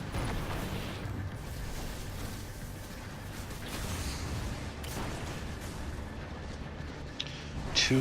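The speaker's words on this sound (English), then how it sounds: "Two wasted heavy shots." Heavy weapon shots in the shooter game Destiny during a Nightfall strike at the Nexus Mind, a few deep booming blasts over a low rumbling backdrop, fairly faint, with no talking.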